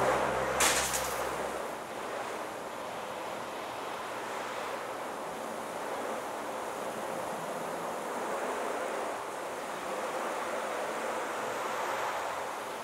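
Steady broadband hiss of water spray from a hose or sprayer washing over a ceramic-coated car's paint, continuous and fairly close throughout, with a brief clatter at the start.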